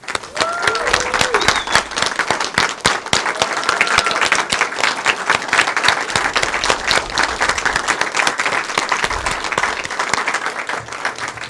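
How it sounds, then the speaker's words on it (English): A crowd gives a group of elementary schools a long, sustained round of applause, dense clapping holding steady throughout with a few brief voices rising above it. "let's give this group a round of applause"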